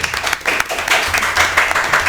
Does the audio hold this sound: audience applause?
yes